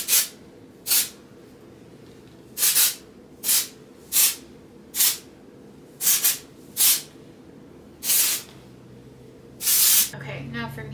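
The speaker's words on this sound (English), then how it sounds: "This is the Pebble Beach Dry Texture Spray for some extra volume, especially at the root." Pebble Beach Dry Texture Spray is misted onto styled hair at the roots, about ten short sharp aerosol hisses in a steady rhythm, close to the microphone, ending in a longer burst.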